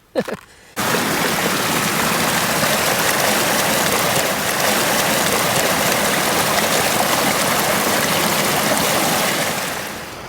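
Water at a rolling boil on a camping gas stove outdoors during a wild camp in Wicklow, a steady loud bubbling hiss that fills the whole stretch after a brief knock at the start, then eases slightly at the end.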